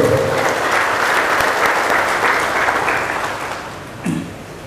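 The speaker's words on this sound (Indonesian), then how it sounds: "Kita berikan tepuk tangan untuk Bapak Rektor." Audience applause for a university rector at a regional government welcome event for a higher-education delegation in South Sorong, Papua: a steady wash of clapping that gradually thins and fades toward the end.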